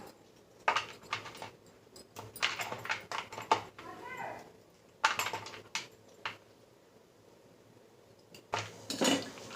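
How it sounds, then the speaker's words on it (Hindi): A knife chops cashews and almonds on a board in a home kitchen, giving bursts of quick, close knocks and clatters with short pauses between. "और अब मैं जो काजू बादाम है वो भी काट लूँगी।"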